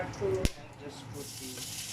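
Onions dropping into hot oil with roasted spices for a Hyderabadi biryani, a sharp hit followed by a steady, quiet hiss of sizzling that continues close by under a voice.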